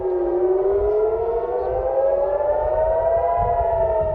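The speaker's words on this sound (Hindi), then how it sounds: "जब इसराइल के तीसरे सबसे बड़े शहर हाइफा में सायरन बजने लगे" An air raid siren wails over Haifa, Israel, one long, loud, steady tone that slowly rises in pitch, heard alone with no voices.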